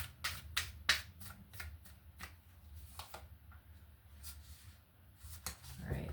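Tarot cards riffle and slap in a quick series of crisp bursts, close and fairly quiet, as the deck is shuffled repeatedly.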